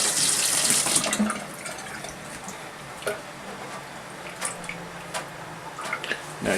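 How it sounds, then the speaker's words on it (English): Mushrooms rinsed in a bunch under a running kitchen tap: a steady splashing gush that tapers to softer trickling, dripping and wet squishing, close by with no talking. "I always give them one quick rinse, of course, as we all know what mushrooms are growing in."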